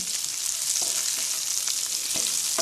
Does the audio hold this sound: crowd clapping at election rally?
no